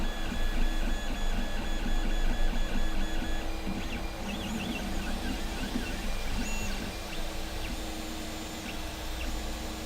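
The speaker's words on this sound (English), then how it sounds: "So wait for this test print to finish, and if it works well, then we can start printing the actual rear panel." A 3D printer runs a test print for a rear panel, its stepper motors whirring and chirping in shifting tones over a steady mechanical hum, close and continuous with no talking.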